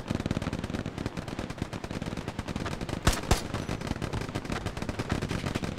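Rapid automatic gunfire rattles continuously in the World War II shooter game Hell Let Loose, dense overlapping shots from several weapons with a couple of louder nearby blasts, steady and loud throughout.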